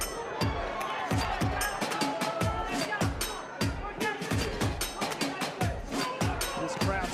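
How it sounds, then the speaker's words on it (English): A sold-out boxing arena crowd in Dallas, Texas, buzzes steadily through a fight, with dense murmuring and scattered shouts under a continuous rhythmic thumping, loud and close, while a voice talks over it. "This crowd still buzzing."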